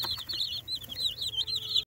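Chickens cluck and chatter continuously, a busy, close flock of meat chicks with warbling high calls over a low background rumble.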